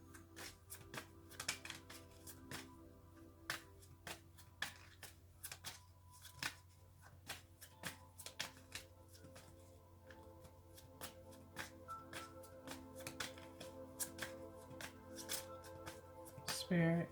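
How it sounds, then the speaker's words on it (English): A deck of tarot cards being shuffled by hand, a steady run of soft, quick riffling snaps and taps, close and quiet, with a person speaking at times. "I'm going to shuffle these last little few here"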